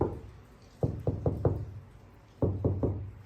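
Knuckle knocks on the door panel of a 1973 Mustang Mach 1 after sound deadening was applied: two close bursts of four quick, dull, solid raps, loud and near, separated by a short pause.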